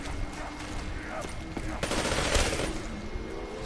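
A PPSh submachine gun fires in Call of Duty Black Ops 3, rapid bursts of automatic gunfire with sharp cracks, loud and dense, mixed with other game sounds and talk.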